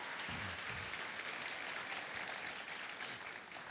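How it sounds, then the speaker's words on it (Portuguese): Applause from a church congregation during a Portuguese-language sermon, a steady dense clapping that fills the whole stretch at moderate distance, with no talk over it. "Você pode aplaudir a Jesus por essa verdade?"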